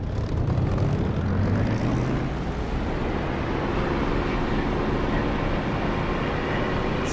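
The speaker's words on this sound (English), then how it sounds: "Ready to go, throttling up." A fixed-wing aircraft engine in the DCS flight simulator throttles up for takeoff, a loud, steady propeller drone that holds evenly throughout with no talk over it.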